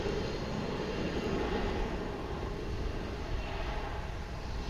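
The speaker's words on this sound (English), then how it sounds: "This is American Airlines Flight 2627 on its way to San Diego." An American Airlines jet bound for San Diego at DFW International Airport makes a steady, loud engine roar and rumble that holds evenly throughout, heard from the airport vantage with no talk.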